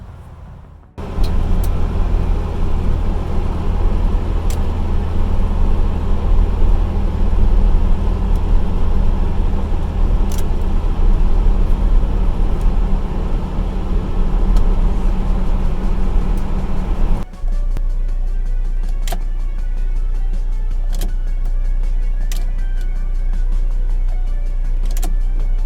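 A Mazda B2000 pickup truck with new LED headlight conversion on a test drive produces steady, loud engine and road noise from inside the cab, with the tone shifting partway through.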